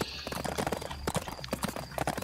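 Hooves clip-clop in a quick, steady rhythm during a horse race in the Bibi und Tina video game, close and fairly loud, with faint whinnying and game sounds mixed in.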